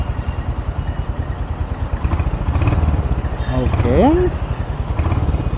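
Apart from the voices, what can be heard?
Royal Enfield Hunter 350 motorcycle engine running after start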